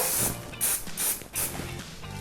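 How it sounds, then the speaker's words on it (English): Leaf shine sprayed onto foliage from about 10 cm away, heard as a short series of four quick, close aerosol hisses with brief gaps between them and no voices. "to my right I've just sprayed it with leaf shine"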